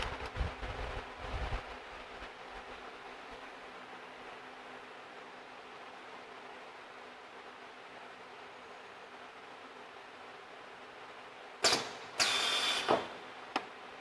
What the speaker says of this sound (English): The front crimper move forward, and then the two crimper, they push. So now the crimping was finished.